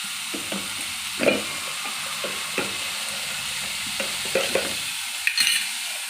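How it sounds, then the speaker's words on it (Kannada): Horse gram sambar ingredients frying in a pan with a steady low sizzle, broken by several distinct scraping stirs of a spoon, close and alone without any talk. "ಚೆನ್ನಾಗೆ ಸ್ವಲ್ಪ ಫ್ರೈ ಮಾಡ್ಕೊತೀನಿ."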